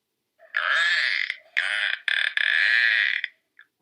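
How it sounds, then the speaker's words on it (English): Recorded narwhal call played back for a puppet show: a loud, close, buzzy nasal drone in several sustained bursts with brief breaks between them, then a faint short chirp at the end, no talking. "This is the sound of a narwhal."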